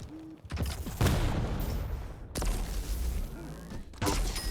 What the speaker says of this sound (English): Sound of that railgun is so cool though